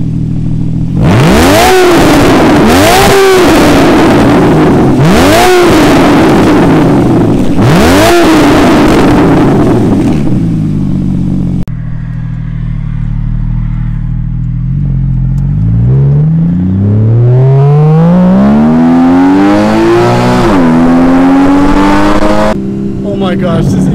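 Porsche 981 Cayman S fitted with a Fabspeed catback race exhaust revs hard in repeated sharp blips, then sweeps up through a long rising rev with crackles, loud and close, with a voice talking over it.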